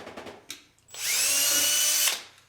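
A power drill bores a pilot hole in wood while building a bird feeder: a few light knocks, then one close, loud whining burst of about a second that spins down at the end.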